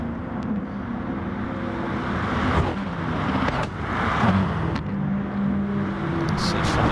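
Racing car engines howl in a Gran Turismo Sport race at St. Croix, a loud, constant droning roar with shifting tones and gear changes, under faint commentary talk.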